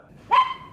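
A dog gives a single sharp bark close by, loud and brief against a quiet background.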